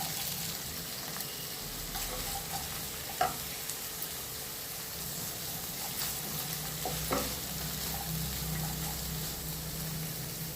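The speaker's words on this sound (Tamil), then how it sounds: "இப்போ இந்த கோஸும் போட்டு வதக்கணும்." Cabbage being stirred and sautéed in a pan for village-style cabbage koottu, giving a steady close sizzle with a few soft spoon scrapes and knocks throughout, with no talking.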